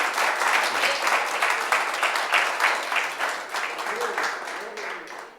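A church congregation at a Christian worship service claps in sustained, energetic applause, a dense wash of many hands that stays loud throughout and tapers slightly at the end, with faint voices underneath.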